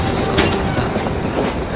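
A passenger train runs along the tracks, a loud, close rumbling roar with faint rhythmic clacks of wheels over rail joints, steady and continuous with no voices.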